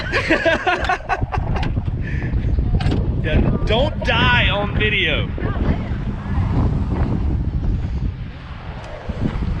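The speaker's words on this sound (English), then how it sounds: "It's hella windy." Strong wind roars and buffets the microphone continuously beside a converted school bus tiny home, while people talk and call out nearby.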